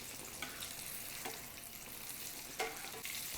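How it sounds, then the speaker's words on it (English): Green tomatoes, cornmeal-coated, fry in grease heated to about 350 degrees, a close, continuous crackling sizzle with a few sharper pops and no voices. "it don't take long for a fried green tomato to cook if your grease is hot"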